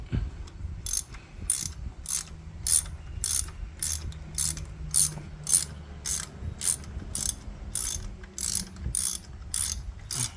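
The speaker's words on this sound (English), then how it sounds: "Just relying on the ratchet." A ratchet clicks in quick, evenly repeated bursts while tightening rocker cover bolts on a Honda K24 engine in a CR-V. Each burst is a close, crisp run of pawl clicks, and there is no talk.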